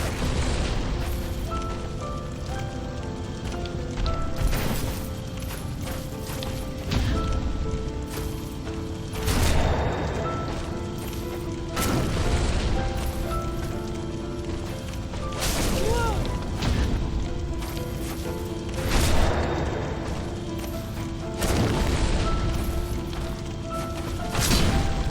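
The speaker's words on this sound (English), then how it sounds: "Explode." Explosions in the Dark Souls video game: repeated heavy booms and bursts arrive every few seconds, loud and near, each with a rumbling tail, over a steady game ambience.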